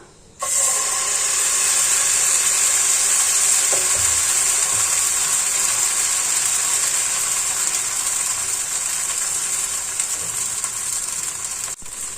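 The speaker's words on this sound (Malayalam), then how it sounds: "ഫ്ലെയിം വളരെ കുറച്ച് വെച്ചിട്ട് നമുക്ക് മാവ് ഒഴിച്ചു കൊടുക്കാം." Oats dosa batter sizzles in hot oil on a pan over a low flame, a loud, steady frying hiss that begins abruptly and holds for the whole stretch, with no voices.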